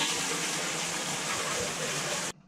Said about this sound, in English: you're supposed to fill the drum with a little bit of water before you plug it in and start a cycle